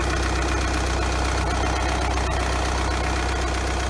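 A Volkswagen 2-liter TDI four-cylinder turbo diesel idling after a cold start, a steady, loud, close engine drone with a fine diesel clatter and no voices.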